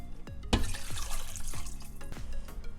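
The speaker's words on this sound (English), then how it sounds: "I'm gonna add a little more water." Water poured from a container into a pot of seasoned meat for Liberian fried kidney beans, a steady splashing pour with a few sharper drips and gurgles, close and fairly quiet, with no talking.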